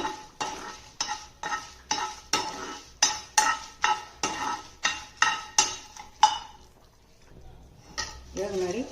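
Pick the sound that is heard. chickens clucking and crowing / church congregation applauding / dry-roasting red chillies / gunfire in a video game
dry-roasting red chillies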